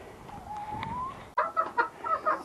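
Chickens inside a coop make a drawn-out call, then a short run of close, rhythmic clucks, with no voices.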